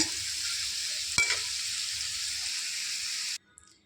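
Oil for fried rice sizzles in a pan with a bright, steady hiss, broken by one sharp metallic clank partway through, before it cuts off abruptly near the end.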